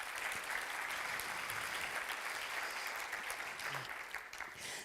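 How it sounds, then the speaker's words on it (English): An audience at a live speaking event claps for the event's organizing team, a dense, steady burst of applause that holds for several seconds before starting to thin. "let's give a hand clap for them real quick."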